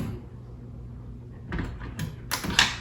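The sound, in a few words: car door being opened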